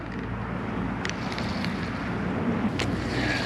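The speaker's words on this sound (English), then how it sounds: "The wind has picked up." Wind blows across a lake during a bass fishing outing, a steady rushing buffet over the microphone with faint small knocks and splashes, constant and fairly close throughout.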